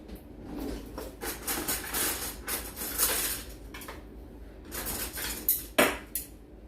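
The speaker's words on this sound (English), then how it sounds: "And you take the chopsticks." Chopsticks and a rice bowl are handled at a table, giving a run of light clinks, taps and scrapes of utensils against dishware, close and fairly quiet, with no one talking.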